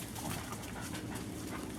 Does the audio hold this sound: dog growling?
yes